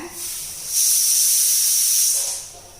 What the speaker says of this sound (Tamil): அவ்வளோதான் மூணு விசில் வந்துருச்சுங்க